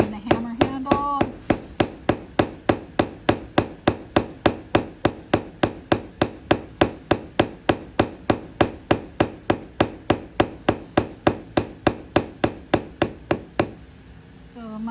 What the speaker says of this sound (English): So you go from square to 8-sided like a stop sign, and then you just roll and hammer.